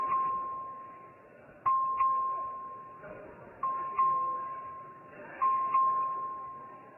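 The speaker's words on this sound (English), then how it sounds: "the clerk ring the bell" In a legislative chamber, a voting bell rings as a repeating electronic ding-dong chime roughly every two seconds, moderately loud, with faint murmuring voices in the background.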